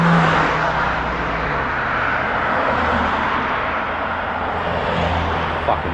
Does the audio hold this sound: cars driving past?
yes